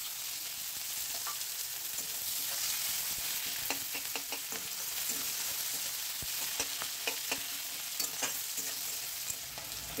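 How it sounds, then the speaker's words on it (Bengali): Chopped onion frying in a pan, a steady bright sizzle throughout with scattered sharp crackles and pops, close and alone with no talk. "এই পেঁয়াজটা আমি এর মধ্যে দিয়ে একটু হালকা পিঙ্ক করে ভেজে নেব"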